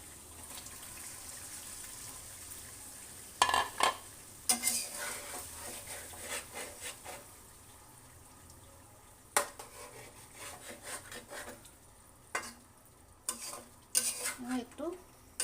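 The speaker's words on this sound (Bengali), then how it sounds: "মশলার সাথে মাছগুলো একটু কষিয়ে নেব।" Fried fish pieces being stirred and sautéed in a pan of spice masala for a Bengali fish bhuna, with a steady sizzle broken by repeated clatters and scrapes of a spoon against the pan.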